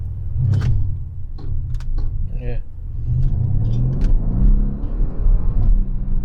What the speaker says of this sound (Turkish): Bak, hani daha hala düşük hızda araba ses yapıyor.